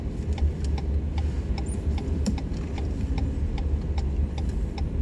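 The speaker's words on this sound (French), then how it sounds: "On va mettre un petit clignotant, on va tourner à droite là." Soft, regular clicking of a car's turn signal ticking steadily over a low engine rumble inside the vehicle.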